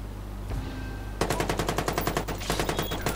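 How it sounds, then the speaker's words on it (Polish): Enemy automatic gunfire rattles at the player in Watch Dogs, a rapid, evenly spaced stream of sharp shots that starts abruptly after a quiet lead-in and keeps firing steadily to the end. "Dobra, zaczynali we mnie strzelać."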